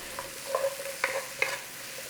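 Mushrooms and onion fry in butter with a soft steady sizzle, broken by a few sharp scrapes and clicks of stirring in the pan.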